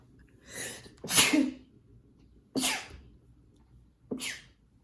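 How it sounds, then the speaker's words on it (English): Three sneezes in a row, each a sharp burst with a short breathy lead-in, separated by quiet pauses of a second or so. "I had to sneeze there."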